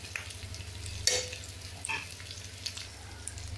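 Spiced potato mixture for aloo tikki, seasoned with roasted cumin, amchur and chat masala, is stirred in a pan over a faint sizzle and low hum, with a sharp clatter near the start and a few quieter scrapes.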